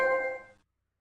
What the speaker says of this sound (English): you're just gonna hear the trophy sound